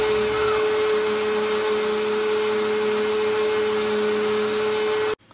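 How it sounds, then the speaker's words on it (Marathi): A mixer grinder grinding a masala paste for fish curry whirs steadily with a high motor whine, loud and unbroken for about five seconds before cutting off abruptly. "आता वाटप लावून घेता बघा मिक्सर चालू केल्या ना"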